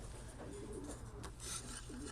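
A pigeon or dove coos softly in a steady outdoor background, a low repeated call rising now and then over faint ambient noise.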